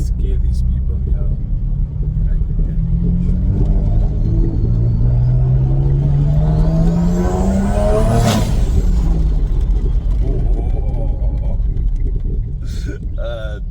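A turbocharged BMW 1M Coupe pulls hard in second gear, its engine rumble climbing steadily in pitch, loud and close, peaking with a sharp rush before dropping away, with voices talking over it.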